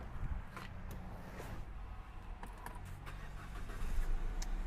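A 2015 Mazda 2 1.5 XD High Plus Skyactiv diesel starting up, with a steady broadband engine rumble that swells slightly louder toward the end, heard close by.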